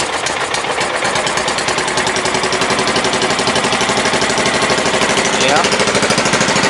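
A John Deere mud mower engine with a custom clutch runs loud and close, a steady rapid chugging throb throughout, with a brief voice over it.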